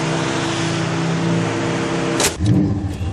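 Chevrolet pickup truck driving, its engine running loud and steady with a continuous roar, followed near the end by a brief burst of clatter and a heavier rumble.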